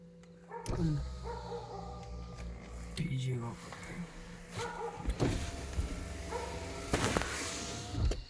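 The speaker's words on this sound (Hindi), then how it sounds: "मेरा वाला शीशा नीचे करो।" A car's electric window motor hums steadily as the glass lowers, while dogs bark and yip intermittently nearby.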